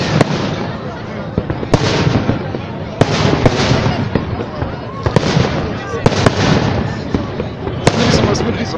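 A city day fireworks display in Voronezh, with loud sharp bangs and crackling bursts arriving in an irregular rapid series over a dense rumbling wash, while people talk nearby.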